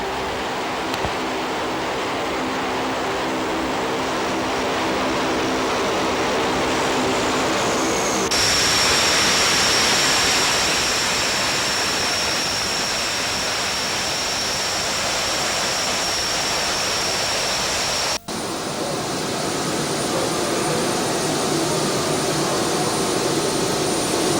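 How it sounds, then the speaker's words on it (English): Propeller aircraft rolling down a runway at night, a loud steady roar of engines and propeller wash throughout, with a whining tone rising partway through and a brief cut near the end. "As the aircraft moves down the runway, the backflow created by its propellers extinguishes the torches."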